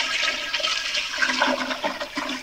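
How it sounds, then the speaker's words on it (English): Close, loud rushing water from a blocked toilet being flushed while it overflows onto the floor, a continuous gurgling surge with slight bubbling, no voices. "do you want to stop flushing it so it doesn't flood the carpet?"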